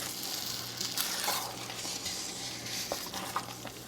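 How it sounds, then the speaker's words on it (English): Cherries gently folded into hot cherry pie filling in a pot, soft wet stirring strokes over a low bubbling simmer, quiet and close, with no voices. "So gently fold those in."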